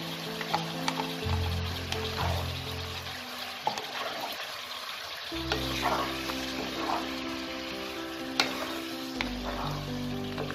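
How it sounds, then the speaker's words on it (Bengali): Mutton sautés in oil with ginger garlic paste for Kashmiri Rogan Josh, a continuous soft sizzle broken by occasional spoon knocks and scrapes, with low background music underneath. "এটাকে ভালো করে মাটনের সাথে মিশিয়ে নেব, আর ভালো করে এটাকে এখন আমাকে কষাতে হবে"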